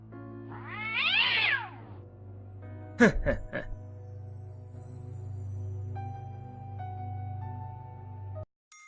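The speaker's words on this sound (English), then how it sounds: "You kick the cat." A cat in the King's Quest 3 remake game lets out a loud, drawn-out pained meow after being kicked, followed by a few sharp thumps over a steady humming game background.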